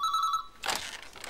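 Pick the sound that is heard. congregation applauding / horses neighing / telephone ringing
telephone ringing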